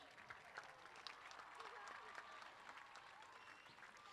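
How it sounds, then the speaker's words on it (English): An audience at a school Founders Day musical claps for a production of Joseph and the Amazing Technicolor Dreamcoat, a faint, distant wash of applause mixed with crowd murmur and voices. "a loud round of applause for Joseph and his amazing technicolor dreamcoat"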